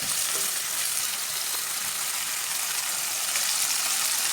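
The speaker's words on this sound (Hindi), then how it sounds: "प्याज और सब्ज मिर्च को डाल के 2-3 मिनट तक पका लेना" Onions and green chillies frying in a pan of oil for a potato and onion curry, giving a constant close hiss and crackle that stays level throughout without any talking.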